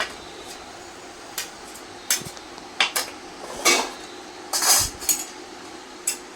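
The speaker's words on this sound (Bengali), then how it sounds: "খুন্তি দিয়ে তরকারি তুলে দিলাম, আর খুন্তি দিয়েই সুজি তুলে নিলাম।" A metal spatula knocks and scrapes against cooking pots while scooping out curry and semolina, several short clinks and scrapes spread unevenly over a quiet kitchen background.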